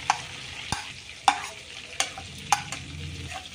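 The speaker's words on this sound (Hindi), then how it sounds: "अब इसमें हम लहसुन अदरक और मिर्च डाल देंगे जो हमने कूट के रखा था" Crushed garlic, ginger and chili frying in a cumin tempering for pav bhaji, loud close sizzling broken by several sharp stirring clacks of a spoon against the pan.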